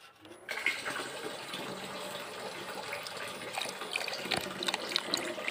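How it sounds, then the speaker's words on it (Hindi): Water poured from a bucket into a tub, drawn from a village pond, streams and splashes steadily and close by, with no talk. "चलो पूरा टब तो भर गया"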